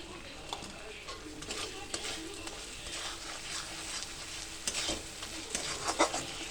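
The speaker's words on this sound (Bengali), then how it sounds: "মশলা বাটা যে জলটা ছিল সেটা দিয়ে আস্তে আস্তে মশলাটা ভালো করে কষিয়ে" Spice paste sautés in a pan for a white paneer curry, a steady close sizzle with scattered scraping stirs and occasional louder clatters from the utensil against the pan.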